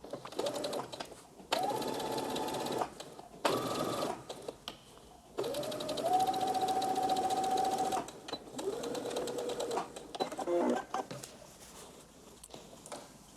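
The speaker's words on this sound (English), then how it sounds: "So after you are done the sewing with the pockets, you can understitch the seam allowance to the pocket piece." Close sewing machine bursts stitch dress pockets, several runs of varying length separated by brief pauses, the motor pitch climbing as each run speeds up.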